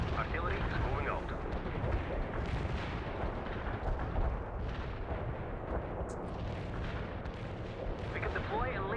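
Battlefield artillery fire in the World in Conflict strategy game: dense, continuous rumbling barrages and crackling blasts that roll on without a break, with voices talking over the din.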